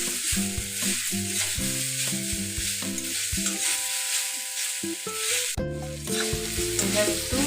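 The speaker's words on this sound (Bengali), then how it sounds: "এটা আমি কিছুক্ষণ নাড়াচাড়া করে নিয়ে এর মধ্যে আমি দিয়ে দেবো জল।" Chutney ingredients stirred and fried in a pan, with continuous sizzling and repeated scraping of the spatula, a brief lull partway through, then vigorous stirring again, close and fairly loud with no talk.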